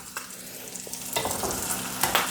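Cheese and egg frying on a nonstick griddle, a close, steady sizzle broken by a few sharp scraping stirs from a utensil.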